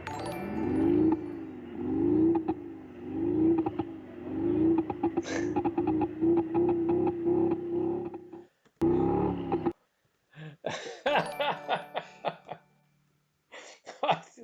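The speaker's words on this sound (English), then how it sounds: "There he's revving up the" A car's V8 exhaust speaker plays a synthetic engine sound, revving up and down in a repeated rhythmic swell for several seconds before cutting off, followed by people talking.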